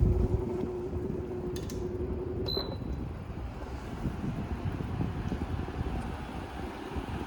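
A Sharper Image box fan running on its low setting outdoors gives a soft, steady rushing whoosh of moving air, with a few faint clicks early on.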